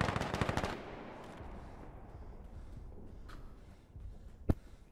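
Gunfire in the Insurgency: Sandstorm video game, opening with a rapid automatic burst and then a quieter stretch broken by one sharp, distant-sounding shot near the end.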